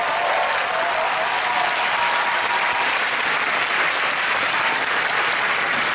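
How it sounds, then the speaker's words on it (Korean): A large audience applauds US Forces Korea and Eighth Army military bands and the Navy Singers at a Korean Navy concert, dense, sustained clapping that fills the hall evenly throughout. "멋진 공연을 보여주신 주한미군, 미팔군, 군악대원들과 네이비 싱어즈에게 다시 한번 큰 박수 부탁드립니다"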